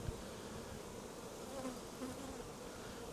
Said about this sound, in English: That is a lot of bees.